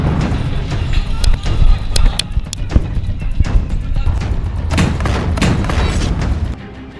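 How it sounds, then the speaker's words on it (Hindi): Heavy booms and sharp blasts ring out as Hamas fighters attack an Israeli tank in Gaza, several irregular explosive bursts and thuds in quick succession over a continuous rumbling background. "इजरायल के टैंक को ऐसे उड़ा रहा है हमास।"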